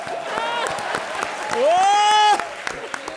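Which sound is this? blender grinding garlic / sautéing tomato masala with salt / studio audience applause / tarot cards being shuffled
studio audience applause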